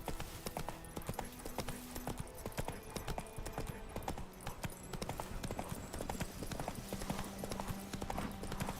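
Roach the horse's hooves in The Witcher 3 video game, a steady, fairly quiet clip-clop of walking hooves throughout over soft game ambience.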